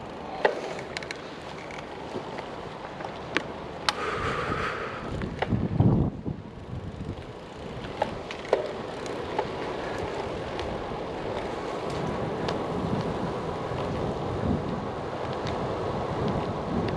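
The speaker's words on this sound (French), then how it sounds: "vous devez entendre le vent là" Wind rushes steadily outdoors, buffeting the microphone with a constant low roar, broken by occasional clicks and a brief thump.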